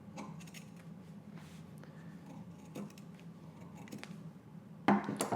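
Scissors snip through puffer jacket fabric during sewing, with soft scattered cutting and rustling sounds that build to a louder, sharper cut near the end, heard close up with no talking.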